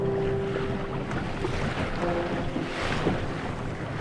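Steady wind roars and buffets the microphone aboard a small sailing canoe on open, foggy sea, with water rushing and sloshing along the hull in continuous, loud noise.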